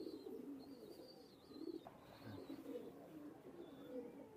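Teddy pigeons, a fancy pigeon breed kept for sale, coo softly in a loft, their low murmuring calls steady and overlapping with faint higher chirps in the background.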